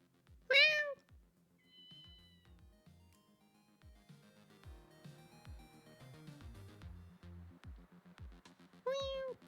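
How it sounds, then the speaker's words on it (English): A cat gives two loud meows, one near the start and one at the end, over a quiet electronic backdrop with soft tones and thumps, in the video game Ghost Trick: Phantom Detective. "A cat!"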